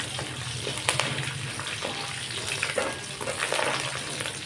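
Curry leaves splutter in hot oil over a low flame for puffed-rice mandakki oggarane, a close, fairly quiet crackling sizzle with scattered pops and no talking.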